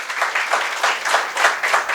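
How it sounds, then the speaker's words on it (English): An audience applauds in a hall during a felicitation at the DRUSHTI 2025 event, steady dense clapping with rhythmic swells, close and continuous, without talk. "So a huge round of applause for Dr. Vitthal Kamath"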